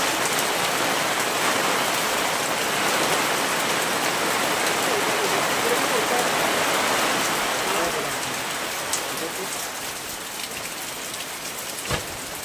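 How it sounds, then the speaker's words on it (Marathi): Rain falls steadily outdoors, a dense, even wash of drops striking surfaces that eases slightly toward the end, with one sharp knock near the close. "पाऊस पण आला बघा."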